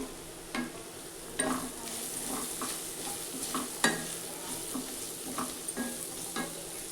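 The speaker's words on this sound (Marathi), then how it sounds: "सगळे मसाले परतून घ्यायचे." Whole spices sizzle in hot oil in a pan while a spoon stirs them for a restaurant-style veg pulao. The frying hiss is steady and close, with soft scraping strokes at irregular intervals.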